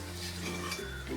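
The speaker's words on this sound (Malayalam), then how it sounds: "ഇനി നമുക്കിത് ദോശക്കല്ലിൽ നിന്ന് ഇളക്കാം" A metal spatula scrapes and clinks as a crispy, golden dosa is loosened from a dosa griddle, with a few short, quiet scraping strokes close by.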